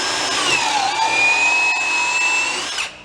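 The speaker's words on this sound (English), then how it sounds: "That's a drill." A power drill with a larger bit bores through pallet wood, giving a loud, close whine that rises and shifts in pitch as the bit bites, then cuts off abruptly near the end.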